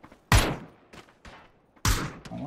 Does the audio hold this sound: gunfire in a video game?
yes